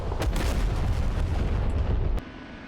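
An APKWS laser-guided rocket launches from an OH-58 Kiowa Warrior helicopter in the DCS combat flight simulator, a loud sustained rumbling roar that cuts off abruptly near the end, leaving a quieter background hum.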